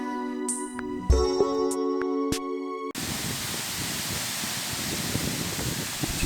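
Steady broadband rush of a waterfall in Iceland, heard close and continuous for several seconds after a short stretch of tonal sounds.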